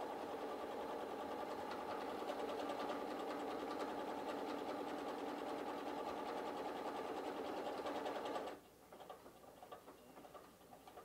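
A Pfaff Ambition 620 sewing machine stitches a buttonhole with a steady, fast whirring hum and needle patter, loud and close, then stops abruptly near the end, leaving only faint handling noise.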